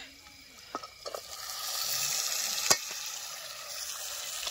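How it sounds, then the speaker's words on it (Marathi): Fresh goat mutton sautés in oil with salt, making a quiet, steady sizzle that grows slightly louder. Light clinks of a stirring spoon come through, with one sharper knock midway, and nobody talks. "बोकडाचं मटण टाकून घेतलंय आणि परतायचं चाललंय तेला मिठात"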